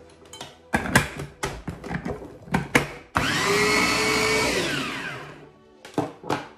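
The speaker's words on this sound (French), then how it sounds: "Là maintenant, je vais mixer le tout" A blender whirs loudly and steadily for about three seconds, mixing a mango and avocado salad sauce with added oil, set between scattered kitchen clatter and knocks before and after.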